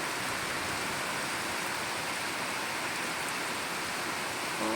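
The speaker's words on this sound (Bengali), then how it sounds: "এই মুষলধারে বৃষ্টি এসেছে, জলের ফোঁটাগুলো দেখো কতটা জোরে জোরে পড়ছে।" Heavy monsoon downpour pounding steadily outside a window, a dense, unbroken hiss of falling rain at constant loudness with no talk.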